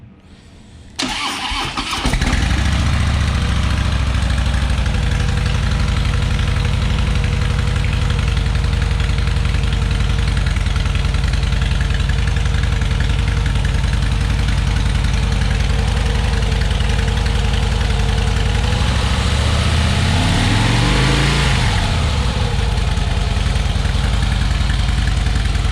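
A 2013 Harley-Davidson Deluxe FLSTN motorcycle fires up with a sharp start and then idles loudly and steadily for over twenty seconds, its low V-twin rumble continuous, with a brief blip of revs near the end.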